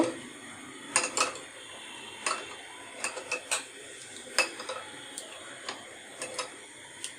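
Tamarind sauce with lemon juice stirred in a bowl, a spoon clinking and tapping against the sides in irregular bursts, fairly quiet with no voices.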